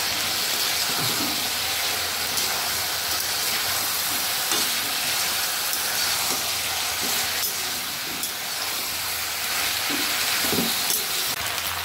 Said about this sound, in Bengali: এটা দিয়ে আরও 5 মিনিট মতো আমি এটা কষে নেব।